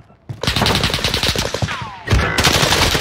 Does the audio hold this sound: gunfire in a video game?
yes